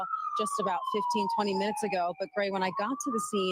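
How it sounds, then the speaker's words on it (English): Emergency vehicle siren wails steadily through the scene of a plane crash involving a military and a civilian aircraft, with firefighters working nearby; the siren holds a continuous tone beneath a reporter talking throughout. "You can hear the sirens right now."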